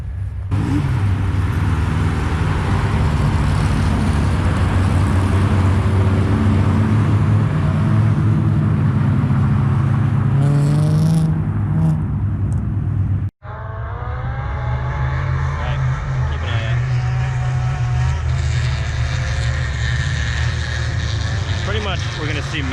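Wing race cars roar around a race course, their engines droning loudly as they pass and fade, with a commentator talking over the noise.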